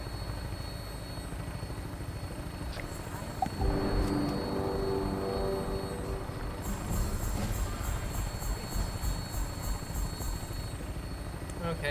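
Aircraft engine starting in the video game Fallout 76: a low rumbling whine that builds and spins up, with rotor-like pulsing later and faint background talk.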